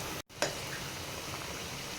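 Mangalore bonda batter fritters fry in hot oil with a steady, dense sizzle and crackle, close and continuous, broken briefly by a short dropout near the start.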